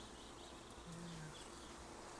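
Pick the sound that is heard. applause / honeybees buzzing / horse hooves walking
honeybees buzzing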